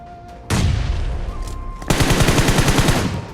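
Automatic gunfire in a mobile battle royale match, loud and close: a sustained burst, a brief pause, then a rapid rattling volley of evenly spaced shots.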